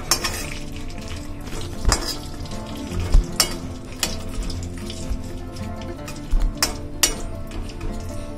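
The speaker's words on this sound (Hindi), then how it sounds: "अब इन सभी को मैं साबुत ही रोस्ट कर लूंगी" Whole almonds roasting in melted ghee in a pan for suji laddu, a continuous soft sizzle broken by sharp metallic clinks of a spoon stirring against the pan.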